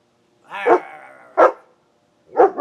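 A dog barks three times at close range, loud and sharp, with short gaps between the barks and no talk over them.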